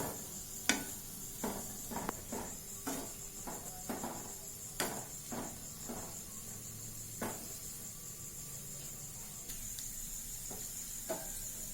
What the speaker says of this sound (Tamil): சிக்கனில் எல்லா மிளகாயும் கலக்கிற மாதிரி நல்லா கிளறி விட்டணும்.